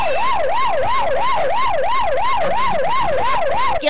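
A police car siren wails loud and close in a steady, regular up-and-down cycle during a road chase of a fleeing loader vehicle in Lukang, Changhua, with nothing else audible.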